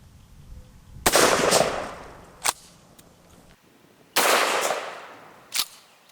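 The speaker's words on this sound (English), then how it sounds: "the final gun that I have out here is the 18-inch 12-gauge shotgun. So first, I'm just gonna shoot some birdshot" An 18-inch 12-gauge shotgun loaded with birdshot fires twice outdoors, each loud close blast followed by a ringing echo and a sharp secondary crack about a second later.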